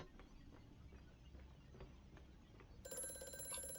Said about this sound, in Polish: O, telefon. Odbierzmy go.